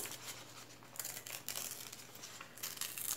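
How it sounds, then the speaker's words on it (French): Small square of scrap paper being torn by hand for a card-making stamp project, giving soft crinkling rips in several short bursts, close and quiet with no talking. "Je prends un petit carré de brouillon que je vais déchirer"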